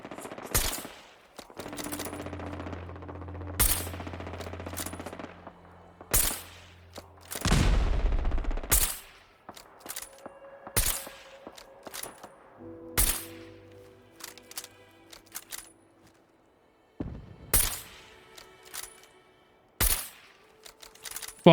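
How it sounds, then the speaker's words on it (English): Heavy gunfire and explosive bursts from a fight with an Annihilator Sentry Bot Mark II carrying missile launchers in modded Fallout 4 survival, loud repeated sharp blasts and rattling volleys with brief gaps. "Annihilator Sentry Bot Mark II. It's got missile launchers."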